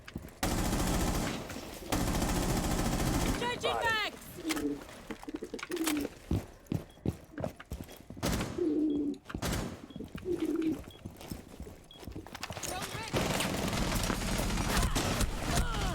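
Gunfire in a Rainbow Six Siege round, single sharp shots and short bursts scattered across a noisy in-game soundscape, some close and loud, with other game effects in between.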